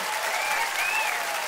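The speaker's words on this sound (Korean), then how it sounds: "박수!" Bright, steady applause at a cartoon shark family concert in a children's song, an even burst of clapping with a faint melodic tone threading through.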